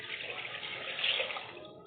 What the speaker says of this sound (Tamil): நாங்கள் குக்கரில் ஃபஸ்ட்டு தண்ணியெல்லாம் சேர்த்துக்கிறோம்.